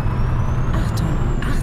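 Renault Range T truck engine in Euro Truck Simulator 2 idling with a deep steady rumble, joined by brief hissing bursts like air brake releases near the end, with no talk.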